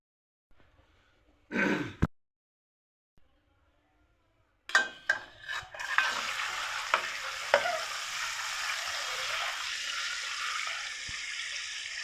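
Eggs drop into hot oil in a pan and are stirred, a brief burst of sizzle followed after a pause by clinks and a steady close frying hiss with scraping strokes.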